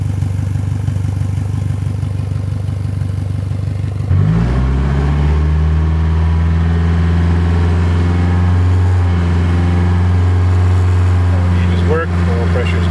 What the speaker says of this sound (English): There's the sound of the exhaust system of the motor.